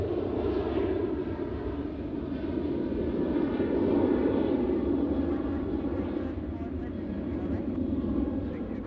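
Airliner taxiing at Nashville International Airport, a steady, loud low engine rumble and whine that holds throughout, with a person talking faintly over it.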